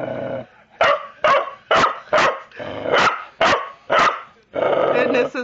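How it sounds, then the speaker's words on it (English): A small puppy barks repeatedly at close range, about eight sharp loud barks in an uneven rhythm, with growly yips between them and a voice speaking briefly. "And this is my little dog, Arrow."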